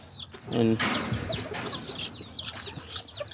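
Aztec chickens and roosters cluck close by in a short flurry of sharp, overlapping calls that open with one loud burst and continue as lighter scattered clucks.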